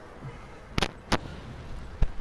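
Three sharp, separate blasts from set demolition charges going off in Resident Evil 6, each a brief bright crack spaced under a second apart over a low background.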